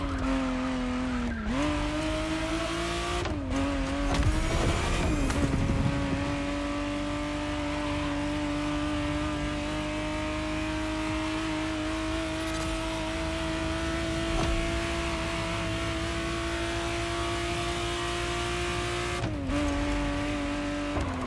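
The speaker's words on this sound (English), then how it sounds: "the exact model Motorfest has put in your hands is the 1991 re-engineered version of the Testarossa, introduced as the 512 TR" A Ferrari Testarossa 512 TR from 1991 in The Crew Motorfest racing game drives with a steady, loud engine drone, briefly revving and shifting with short tire squeals near the start and again toward the end.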